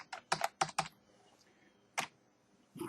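Password being typed on a computer keyboard at a workstation: a quick burst of several crisp keystrokes, then a pause and a couple of single key presses, close and alone.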